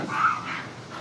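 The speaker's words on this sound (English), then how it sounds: "That might be the dog." A dog whimpers and lets out a couple of high yips nearby, short whiny cries rising and falling in quick succession.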